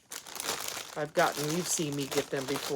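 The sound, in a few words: crinkle ribbon being handled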